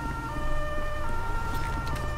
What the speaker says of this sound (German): ich mach mal die Sirene raus